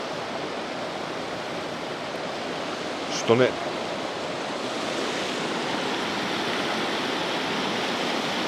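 Sour Milk Gill waterfall in the Lake District, a steady broadband rush of falling water close by and unbroken, with one brief spoken word about a third of the way in.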